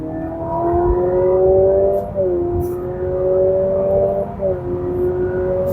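A 2025 Honda Civic RS e:HEV hybrid accelerates hard, its engine drone rising steadily in pitch with brief dips at two shift-like points, heard from inside the cabin with road rumble beneath.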